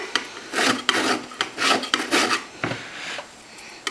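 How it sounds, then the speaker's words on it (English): An orange being grated on a zester in a home kitchen, a series of close raspy scraping strokes, uneven in rhythm and loudness, with no talking. "And then I'm going to add in a tablespoon of orange zest. We'll just zest it up here."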